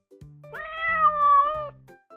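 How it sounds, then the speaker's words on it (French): A cartoon cat gives one long, bright meow that opens with a quick rising chirp and holds a steady tone before trailing off, close and alone. "Il miaule."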